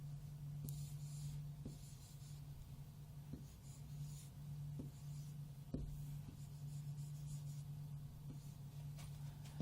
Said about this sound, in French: On va l'écrire ensemble.